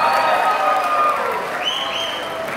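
A school audience at a 2023 farewell ceremony at MTsN 1 Pekanbaru claps in sustained applause that slowly eases off, mixed with steady musical tones.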